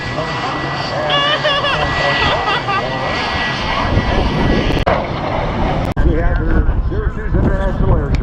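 An aircraft engine roars loudly at an airshow, a continuous jet-like drone under a crowd, with people talking and cheering over it and brief dropouts near the end.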